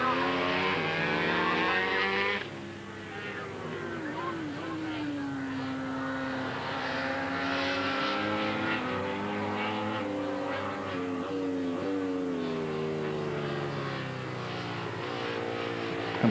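Ducati and Honda twin-engine racing motorcycles accelerate hard in a race, a loud continuous roar with rising and falling pitch sweeps as they pull away together.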